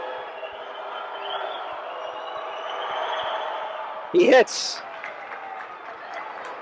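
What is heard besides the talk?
basketball arena crowd cheering a free throw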